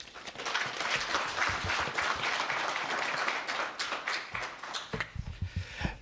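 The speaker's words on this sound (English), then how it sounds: "big round of applause" Audience at a stock exchange listing ceremony in Victoria Falls giving sustained, steady applause that breaks into fewer, sharper individual claps near the end.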